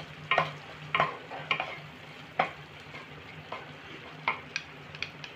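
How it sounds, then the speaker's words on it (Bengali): Masala with mustard and coriander leaves is stirred in a generous amount of hot oil for a rohu fish curry, giving a steady low sizzle broken by sharp scraping and clinking strokes of the spatula about once a second. "ধনেপাতা আরে ভালো করে আমি কষে নেব"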